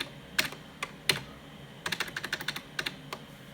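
Keys on a 486 PC keyboard are pressed while setting the date in BIOS, with a few separate sharp clicks followed by a quick run of rapid taps, close and crisp with no talk.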